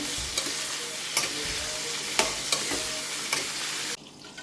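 Pumpkin sabzi frying in a pan, a continuous sizzle punctuated by several sharp stirring scrapes and clacks, ending abruptly near the end.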